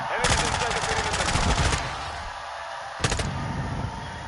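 Rapid automatic gunfire from a video game weapon during a hardpoint capture match, a loud burst of about a second and a half, then a pause and a second short burst under faint game sounds.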